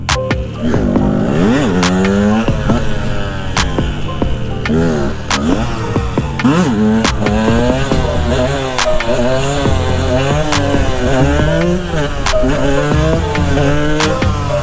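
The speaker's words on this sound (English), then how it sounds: "it's a two-stroke 125, so it sounds really good" A revving two-stroke 125cc Husqvarna TE125 motorcycle engine, loud and close, its pitch rising and falling repeatedly with throttle blips and sustained high-revving whine.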